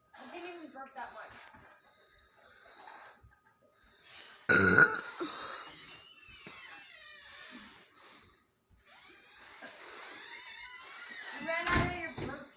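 A boy burps after drinking soda, with one big, loud belch in the middle and another near the end, while kids chat around it.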